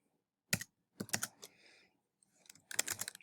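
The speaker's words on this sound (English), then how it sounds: "I can just type it in because I've already made one." Keys clacking on a computer keyboard in short bursts separated by brief pauses, crisp and close, with no one talking.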